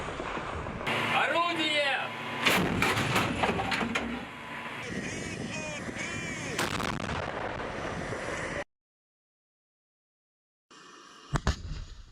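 Russian artillery guns firing, with sharp booming blasts at intervals over a busy background of voices and bird calls, then a short gap and a few more loud reports near the end.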